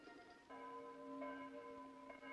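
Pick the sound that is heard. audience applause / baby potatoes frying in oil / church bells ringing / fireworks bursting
church bells ringing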